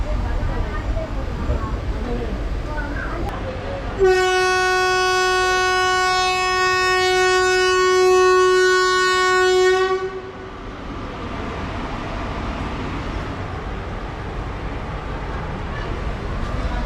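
A passenger train running from Trichy to Villupuram blows a long, loud, steady horn for about six seconds over the continuous rumble of the moving train.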